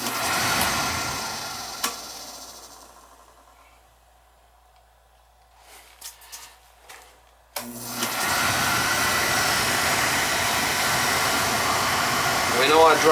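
A Beckett oil burner ignites. After a quiet stretch with a few faint clicks, it bursts into a loud, steady broadband roar that holds evenly to the end.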